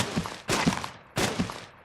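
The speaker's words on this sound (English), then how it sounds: "Listen to the ground here. You can hear like a little thud." Bullet impacts in the video game FALLZ strike the ground, three heavy thuds with gritty bursts spaced evenly and close, loud and alone.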